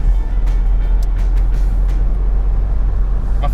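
A car in motion on the road from San Sebastian to Bilbao, a steady low road rumble and tire roar close up, with a few faint higher swishes from passing traffic, no talk.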